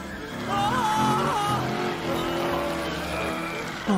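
Cartoon race car zooming and skidding in a children's chase scene with a crocodile, a steady engine drone with rising and falling tire squeals throughout, under background music and a voice.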